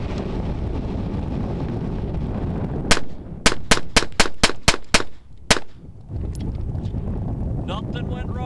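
A Smith & Wesson Shield pistol fires out-of-spec ammunition in a quick close string of about eight loud, sharp shots outdoors, with wind noise before and after.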